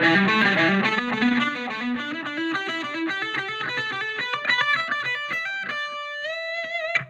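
A distorted electric guitar plays a fast pentatonic lick in steady repeating note groups, climbing upward and ending on a sustained held note, with no voices.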